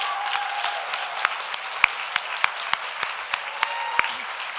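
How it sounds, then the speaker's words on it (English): Conference audience applause at an animal rights national conference plenary, a steady wash of clapping with a few sharp individual claps standing out, moderately distant and without speech. "give a huge round of applause and a great appreciation to Jen and Ethan for taking on this monstrous task"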